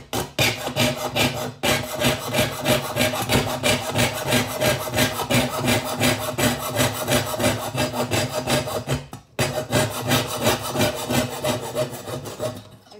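A hand file rasps back and forth across the edge of a jewelry metal piece, cutting jagged marks in steady, close, continuous strokes with two brief pauses.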